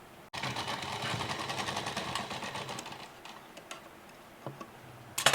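A sewing machine runs steadily, stitching elastic onto a midi dress made from suit fabric, its rapid mechanical ticking continuous for several seconds before slowing and stopping with a few clicks near the end.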